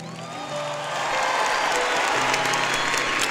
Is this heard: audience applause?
yes